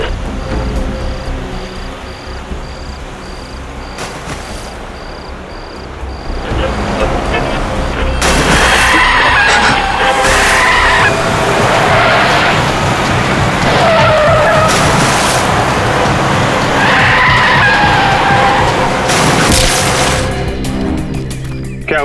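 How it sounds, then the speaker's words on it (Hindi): A car skids out of control at night near a field, tires squealing in long loud sweeps over engine noise and a brief crunching impact, after a quieter stretch of road rumble. "गाड़ी आपे से बाहर हो गई और इस खेत में आके स्कैर क्रॉ से जा टकराई"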